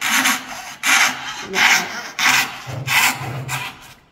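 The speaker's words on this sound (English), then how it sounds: "try and cut a line going straight down" A coping saw cuts a straight line down through wood, making about six close, rhythmic rasping strokes, each a loud burst separated by brief pauses.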